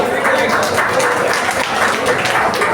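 A crowd applauds a singer at a Tamil state conference in Tiruvannamalai, steady dense clapping for a few seconds under a voice talking over it.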